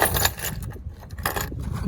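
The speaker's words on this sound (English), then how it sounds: "Let me put the keys down." A bunch of keys clinks and jangles in a few short metallic bursts as it is set down, close by and without speech.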